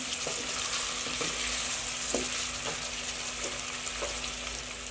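Mutton karahi frying with ginger and green chili, a dense continuous sizzle with regular scraping strokes of a spoon stirring through the pan, close by and steady.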